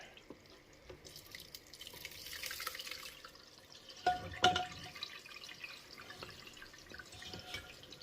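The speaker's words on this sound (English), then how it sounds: "We're going to let that just drain for a minute." Liquid brisket tallow pours and drains through a mesh screen, giving a steady trickling, faucet-like flow with a brief louder splash midway, then continued light dripping, close by with no talking.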